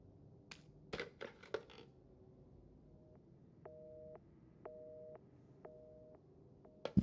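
Resident Evil 7 telephone giving a not-connected tone: a few handset clicks and knocks, then a steady repeating two-tone beep pattern, clear and alone with no talking.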